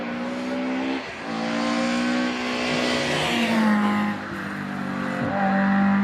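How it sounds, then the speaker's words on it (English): A Porsche race car climbing a hillclimb course at a British Championship event in Doune, its engine loud and close, revving hard through gear changes with rising and falling pitch over several seconds and no talk. "Now, Jonathan Williamson is on the hill in his Porsche."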